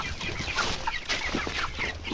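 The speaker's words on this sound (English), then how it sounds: "That's a very vocal rooster." A rooster clucks repeatedly and busily at close range, with short throaty calls and other fowl chatter around it.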